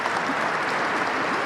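Applause in the Capitol rotunda during a Congressional Gold Medal ceremony for Senator Bob Dole, a brief, steady wash of many hands clapping in a large reverberant hall.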